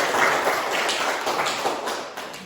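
Applause from a classroom of students, a dense burst of clapping that rolls on steadily at close range and tapers slightly toward the end.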